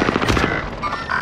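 An allied precision airstrike in Call of Duty Modern Warfare erupts as a burst of rapid, close gunfire-like cracks with booming impacts, loud at first and then trailing into rumbling debris.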